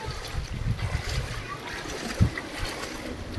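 Floodwater rushes strongly through a residential chawl in Palghar after heavy rain, a continuous loud churning wash with a sudden splash, while people talk over it.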